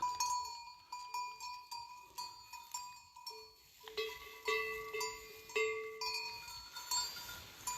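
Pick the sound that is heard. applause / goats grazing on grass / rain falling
goats grazing on grass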